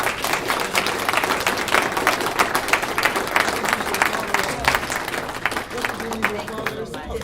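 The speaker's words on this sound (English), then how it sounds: "we would really, really like to give these 6 people right up here a big, big round of applause for coming" A festival audience applauds a six-member panel at a motorsport event, with dense sustained clapping that holds steady at full strength for about seven seconds and fades slightly at the end.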